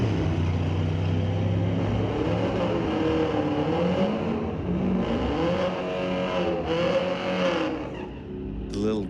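A 1993 Ford Mustang at a street-legal drag strip roars loudly and continuously, its engine note rising and falling through gear changes before fading near the end.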